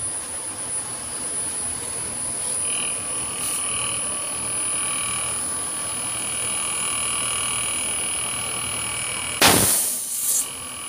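Condura WT inverter air conditioner compressor running after repair, a steady high-pitched whine and hum with faint shifting tones, ending in a short burst of loud broadband noise.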